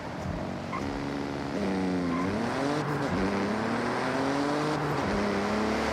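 Simulated car engine in the Forza Horizon racing game, heard from outside, with a steady droning tone that climbs and shifts through several revs and gear changes, with no talking over it.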